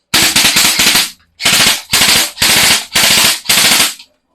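SRC airsoft gun firing in loud rapid bursts, about six close, sharp rattling strings of shots with short pauses between.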